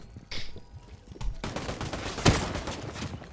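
Gunfire during a Fortnite battle royale match, a busy stretch of rapid shots and clatter punctuated by one loud, sharp crack like a sniper rifle report near the end, with no talk.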